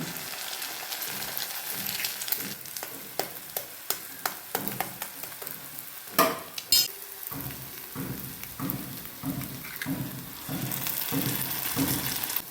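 Eggs fry in a pan for egg bhurji, giving a steady close sizzle broken by rhythmic scraping and stirring strokes and a few sharp clatters, with no talking.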